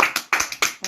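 Children clapping and cheering in acclaim of the Lord at a Christian gathering, three quick bursts of claps with shouting voices, close and lively.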